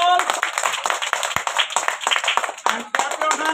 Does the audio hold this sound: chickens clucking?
no